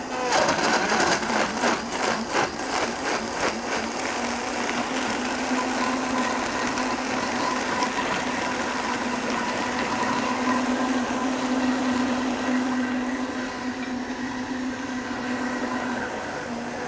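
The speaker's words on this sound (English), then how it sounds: "I'm just going to go ahead and blend this up real quick" A blender whirs through plant food, a loud continuous motor drone with a rattling chop early on that smooths into an even whine, easing slightly near the end, with no talking.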